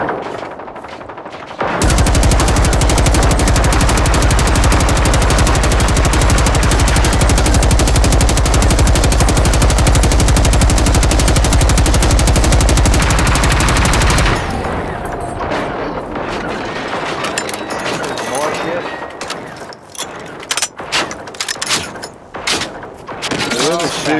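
Sustained machine-gun fire from the video game Generation Zero, a dense, loud automatic burst running about twelve seconds before cutting off, followed by scattered single shots and clatter while players chat over the action.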